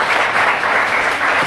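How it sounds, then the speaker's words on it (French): An audience in a packed sports hall applauds loudly, a dense, even wash of clapping from many hands throughout, at the draw for a women's Alsace cup football round. "vous qui êtes dans la salle, d'applaudir très fort pour montrer aux gens qui nous regardent que vous êtes bien là"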